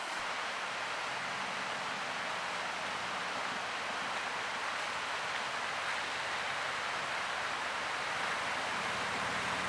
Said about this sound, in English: This creek is flowing.